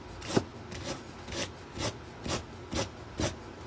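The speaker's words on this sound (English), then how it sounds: "what I am doing is just sanding the edges to get the scrapbook paper" Sandpaper rubbing along the edges of scrapbook paper glued onto a wooden crow decoration, close and quiet, in a steady rhythm of about eight short rasping strokes, with no talk.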